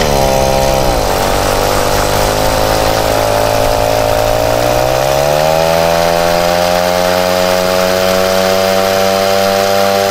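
The small two-stroke engine of a Peugeot 103 moped revs hard, its buzzing pitch dropping sharply, then climbing again and holding at a high, loud, steady rev.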